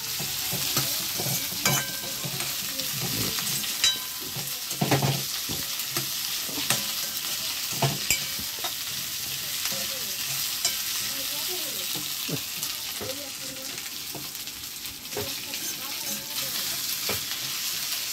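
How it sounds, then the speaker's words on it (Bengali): Idli sambar ingredients being stirred as they fry in a pan, a soft steady sizzle with repeated scraping and clinking of the spoon over about eighteen seconds, moderately quiet and with no talking. "এখন এগুলোকে একটু নাড়তে হবে সুন্দর করে"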